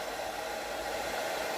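A hair dryer runs steadily at close range, a continuous broadband whoosh with no pauses or other sounds.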